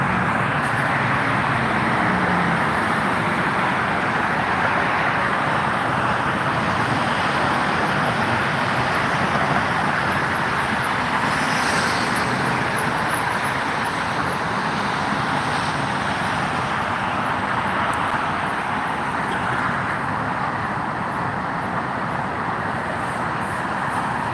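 Steady, dense roar of freeway traffic in the American West, a continuous broadband wash of passing cars and trucks at an even, loud level with no breaks or voices.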